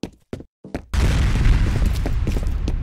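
Grenade blast in the first-person shooter F.E.A.R., a heavy booming explosion erupting after a few short knocks, then a dense rumbling roar with debris crackle that lingers to the end.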